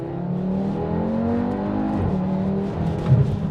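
An Audi RS3's 400-horsepower engine hums steadily from inside the cabin, then revs up with a rising growl as it accelerates.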